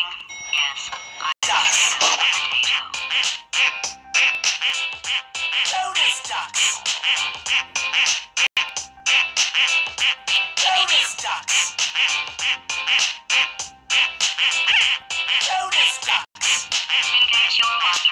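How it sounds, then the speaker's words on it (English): Rapid, loud, overlapping duck quacks from a Roblox horror game repeat almost continuously, dense and close, with no pauses for talk. "ducks."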